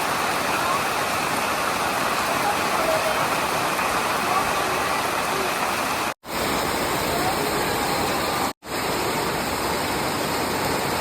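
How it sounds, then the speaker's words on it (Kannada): Steady heavy rain hisses continuously at Sahasralinga near Sirsi, broken by two abrupt brief cuts to silence, with no voices. "ಸರಿಯಾಗಿ ಮಳೆ ಹೋಯ್ತಾ ಇದೆ"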